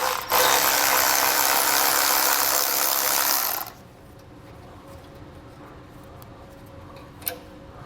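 A ratchet wrench loosens the bolt holding a brake line bracket on a 2022 vehicle during an air helper spring install. Close, rapid, steady ratcheting runs for about three seconds, then cuts off into near quiet.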